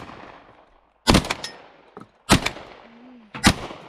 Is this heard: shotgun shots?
yes